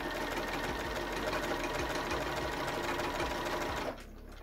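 Sewing machine stitching steadily along the edge of fabric for a wrap skirt, a close continuous whirring hum that runs evenly and stops abruptly near the end.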